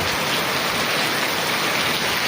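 Heavy rain roars in a thick, unbroken hiss, loud and close, with no pauses or other sounds.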